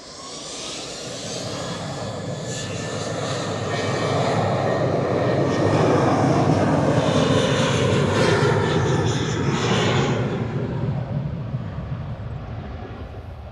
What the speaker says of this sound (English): We're going to stick with the A380 though. This is heading off to Milan with flight